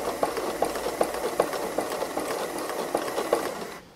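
A sewing machine stitching free motion embroidery runs in a quick, steady mechanical chatter with regular rhythmic clacks, close and moderately loud, before stopping abruptly.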